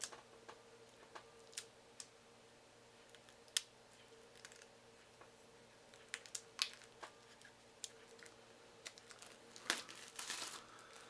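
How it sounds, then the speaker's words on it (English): Cellophane wrapping crinkles and crackles as it is peeled off a board game box, quiet close-up handling with sharp irregular snaps and rustles that grow busier toward the end, no talking. "I'm going to have to fight with the cellophane."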